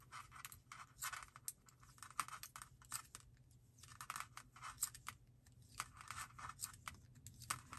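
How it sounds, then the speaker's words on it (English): The cable of interchangeable knitting needles clicking and scratching during knitting, a quiet, irregular run of small clicks and rustles with no talking. "And you can hear my cable clicking."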